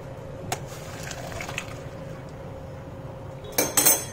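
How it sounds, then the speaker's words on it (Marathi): Boiled macaroni is tipped into a metal colander to drain, with soft trickling water and light scattered clinks, then a sharp cluster of metallic clatters near the end. "तर मी एका चाळणीत काढलं आहे म्हणजे त्याचं पाणी सगळं छान निघेल."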